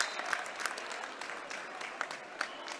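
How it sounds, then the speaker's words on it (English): A crowd at a WIAA regional high school boys basketball game applauds as a senior leaves the floor, with soft, distant clapping and a few sharper claps over the gym's quiet background. "He'll get a round of applause."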